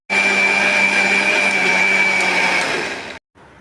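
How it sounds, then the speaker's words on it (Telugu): A mixer grinder whirs loud and steady as it blends bottle gourd chutney with coriander, then cuts off abruptly, followed by a brief quieter restart. "కొత్తిమీర వేసుకొని అంతా ఒకసారి గ్రైండ్ చేసుకోవాలి"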